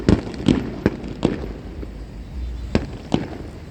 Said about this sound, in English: There go my fireworks show I've been waiting for.